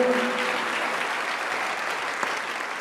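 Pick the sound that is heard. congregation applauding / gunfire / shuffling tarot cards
congregation applauding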